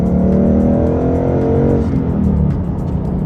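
A 2021 Ford Mustang GT's 5-liter V8 revs loudly up close, a deep continuous rumble that swells, then eases off toward the end, with no talking over it.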